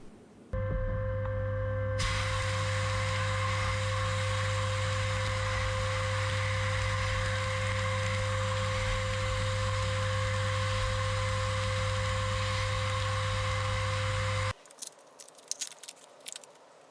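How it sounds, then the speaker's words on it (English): Old cement mixer parts, carefully taped, being sandblasted to strip the paint: a steady rushing hiss with a constant mechanical hum that runs unbroken for about fourteen seconds, then cuts off into quiet clicks and knocks. "Being extra careful with this, very well taped, let's sandblast it."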